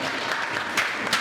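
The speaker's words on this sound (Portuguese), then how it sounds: "Vamos aplaudir ao Senhor Jesus." A church congregation applauds during a service, a brief, moderately loud burst of mixed clapping with a few sharper claps standing out near the end.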